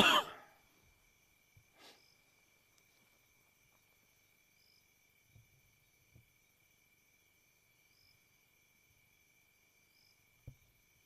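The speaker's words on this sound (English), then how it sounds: "Listening to all the insects." Crickets and other insects chirp steadily at night in the African bush, a continuous high trill with a few soft rustles and faint bumps nearby, and no voices.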